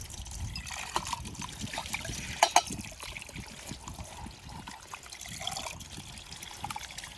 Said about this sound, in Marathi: हे आपलं बोरचं पाणी हो का